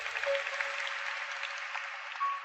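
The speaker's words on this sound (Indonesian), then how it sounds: "Berikan tepuk tangan untuk Tuhan Yesus." Congregation applauding together at a church sermon, a steady sustained wash of many hands clapping at moderate level with no voices over it.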